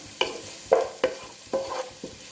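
A spoon stirs a tomato and rice mixture in a pan in a few quick scrapes and knocks, over a low background sizzle.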